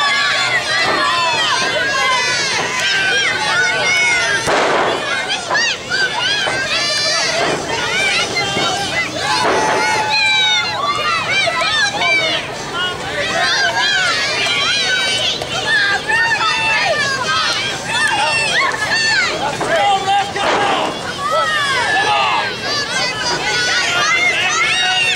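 The crowd at a Moonshine Mantell wrestling event keeps up a loud, continuous roar of shouting voices and chatter, packed and close throughout.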